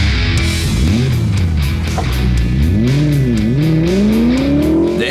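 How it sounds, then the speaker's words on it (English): BMW M3 E90 with its S65 V8 engine revving hard, loud and close, pitch rising and falling through repeated climbs and dips as it accelerates, with a sustained high harmonic whine over the throbbing exhaust note. "The M3 models of the E90, E92, and E93 all shared the powerhouse of the S65 V8 engine"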